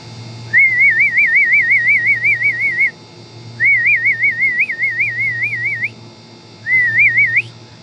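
A person whistles to call falcons, producing three long warbling trilled phrases separated by short pauses, loud and close, with a low steady hum underneath and no talking.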